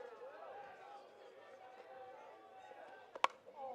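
Shouts and murmurs from a Nova Scotia crowd at a men's softball game against Quebec sit in a faint, steady background hum, broken near the end by a sharp single crack.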